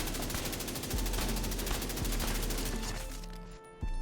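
Assault rifle in The Division 2 firing a long, steady stream of rapid automatic shots from a crit-focused build. The fire is loud and close, fades just before the end, and a final shot follows.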